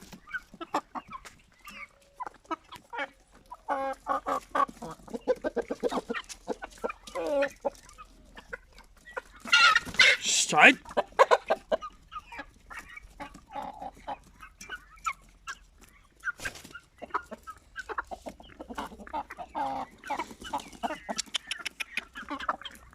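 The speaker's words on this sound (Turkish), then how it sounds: "Deli horozum benim." Chickens cluck and an Indian game rooster calls in a busy farmyard, with bursts of noisy squawking midway and scattered bird sounds throughout, fairly close.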